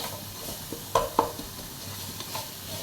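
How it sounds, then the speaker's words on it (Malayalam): Onion, ginger and garlic are stirred as they fry in a pan for Thalassery-style chicken dum biryani. A soft, continuous sizzle carries two distinct clinks of a spoon against the pan and quieter scraping. "ഇനി അതിലോട്ട് ഒരു സവാള ചേർത്ത് കൊടുക്കുന്നുണ്ട്"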